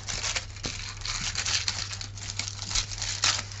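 Paper is torn by hand while making a craft chocolate bar, giving a close, crackly ripping and crinkling that runs continuously for a few seconds with uneven bursts.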